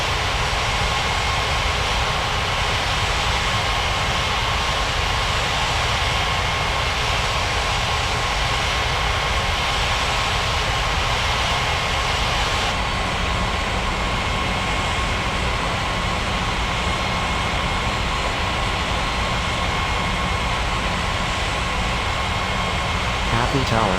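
An airliner in a flight simulation game approaches to land on runway 35 left, a constant loud jet engine drone with a steady whine, with radio voices talking over it.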